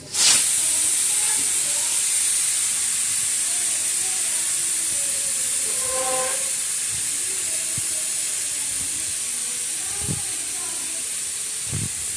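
Steam hisses steadily and loudly from a pressure cooker boiling corn, a continuous high rushing sound lasting throughout, with faint clinks underneath.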